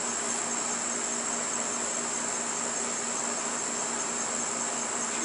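Honeybees in a busy beehive with capped brood give off a dense, continuous buzzing drone that holds steady and close, with no pauses or voices.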